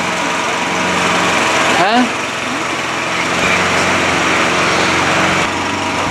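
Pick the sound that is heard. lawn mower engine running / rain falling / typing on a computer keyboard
lawn mower engine running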